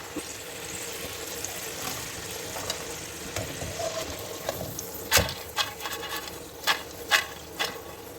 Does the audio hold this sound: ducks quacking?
no